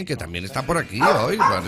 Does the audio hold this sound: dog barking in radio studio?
yes